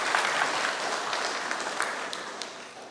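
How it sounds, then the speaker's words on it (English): A town hall audience at a high school gives a moderate round of applause, an even patter of many hands clapping that gradually fades over a few seconds. "Okay, round of applause."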